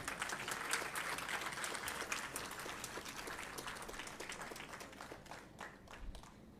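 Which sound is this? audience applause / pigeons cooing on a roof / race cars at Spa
audience applause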